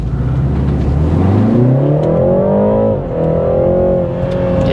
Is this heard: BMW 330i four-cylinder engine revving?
yes